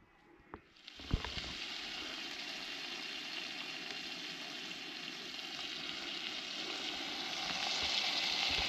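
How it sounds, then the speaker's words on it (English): Salmon fillets fry steadily in a pan on a camp stove at a wild camp in the Scottish Cheviots, a continuous close sizzle that swells slightly louder toward the end, with no voices. "So we've got the salmon fillets cooking."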